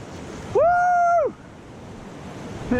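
Fast-flowing Scottish Highland river water rushes as a steady, broad hiss throughout, while a loud, rising and falling whooping voice cry rings out over it in the first half.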